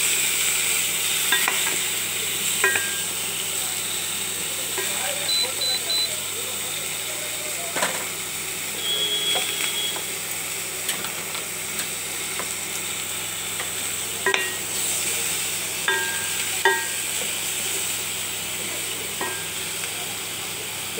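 Spices with turmeric, salt and roasted coriander-cumin powder frying in a pan, a steady close sizzle with repeated scraping stirs and spoon clicks, with some speech.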